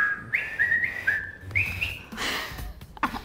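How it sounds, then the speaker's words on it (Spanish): A person whistles a bright rising and falling tune in short phrases, clear and close, with a breathy burst of noise partway through. "donde aprendimos a silbar"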